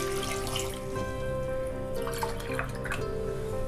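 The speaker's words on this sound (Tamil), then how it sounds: "1/2 கப்பு தண்ணி ஆட் பண்ணியிருக்கேன்." Water is poured onto palm jaggery in a cooking pot, producing a steady splashing trickle over a continuous background hum, with small drips and splatters standing out midway.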